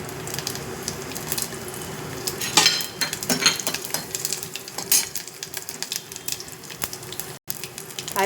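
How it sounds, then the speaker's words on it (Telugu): Dried chili, garlic, cumin, urad dal and fenugreek seeds tempering in hot oil for a betel leaf rasam, giving a steady close crackle with sharp popping spurts and light clinks of a utensil against the pan. "తాలింపు వేగిపోయింది, ఇంగ వేసుకుందాం."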